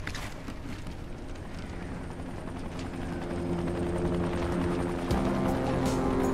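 Helicopter arriving in the video game Dying Light, a steady rotor drone that grows louder over the clip with game effects layered on top, no talk.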